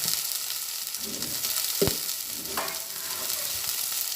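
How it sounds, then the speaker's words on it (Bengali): Garam masala powder fries in hot oil with a continuous close sizzle, one sharp utensil knock in the middle and a few soft scrapes of stirring. "গরম মশলার গুঁড়ো এখনই এই তেলের মধ্যে দিয়ে একবার একটু ভেজে নেব"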